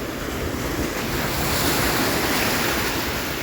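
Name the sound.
sea waves breaking on the shore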